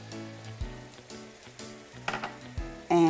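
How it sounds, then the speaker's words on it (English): Ground beef and onions sizzle as they brown in a pan on the stove, a soft frying crackle running underneath louder background music with shifting tones. "I am browning my ground beef, and now I'm going to add the onions in"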